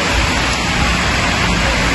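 Steady, loud, hissing rain falling continuously at a truck yard, a dense wash of noise with no talk.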